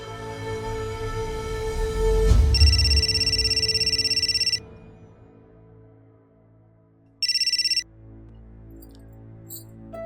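A telephone rings indoors during a drama scene, with a long electronic ring burst followed by a pause and then a second shorter ring, clear and close over a low background.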